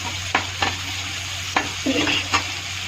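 Tomatoes sizzling in a hot pan with a steady hiss of frying, broken by a few sharp scrapes and clacks as a spatula stirs them; close and fairly loud, no talk.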